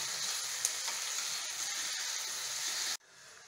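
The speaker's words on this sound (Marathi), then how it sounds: "हे थोड्याशा परतून घ्यायच्या आणि टोमॅटो घालते" Red chillies and tomato sauté for sambar in a pan, giving a quiet, continuous sizzle and hiss that cuts off abruptly near the end, leaving faint background.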